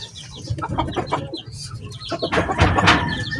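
Gray backyard hen clucking in short, uneven bursts, joined by chirps and cackles from other chickens close by, the calls growing louder and busier toward the end.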